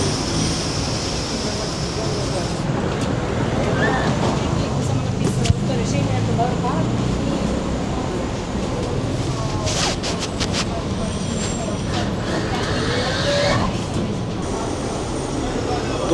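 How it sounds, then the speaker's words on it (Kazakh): Inside a Belgrade tram during a ride, a steady rumble of the moving car with rail clatter and occasional brief squeals, people talking throughout. "Достар, біз қазір Белград қаласындағы қоғамдық көлік трамвайға міндік"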